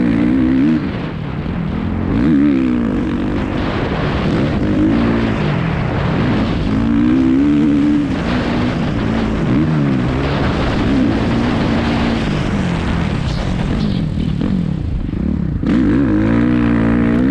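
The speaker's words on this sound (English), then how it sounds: "bike sounds so nice, if you give it a little more gas and it pulls, in that second gear" A Suzuki RMZ450 dirt bike engine revs and pulls hard in second gear, a loud, raspy four-stroke roar rising and falling in pitch as the throttle opens, close by and continuous.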